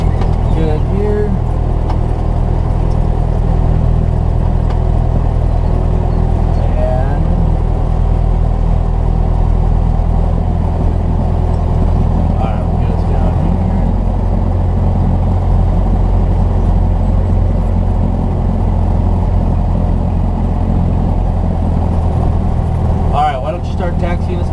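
A small training airplane's engine drones steadily while taxiing, a loud constant low rumble running throughout, with people talking over it in the cockpit.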